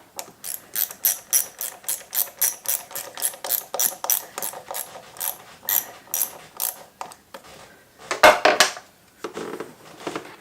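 A hand ratchet clicks in quick repeated bursts while tightening a hose fitting on a TD5 engine during a rocker cover gasket job on a Discovery or Defender, ending with a brief metallic clatter, close and without talk.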